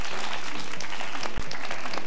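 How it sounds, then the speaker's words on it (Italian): Audience applause for a group of young firefighter cadets in uniform, a dense burst of clapping filling the whole stretch at steady volume, with no talk over it. "facciamo un bel applauso a questi baldi giovani in divisa"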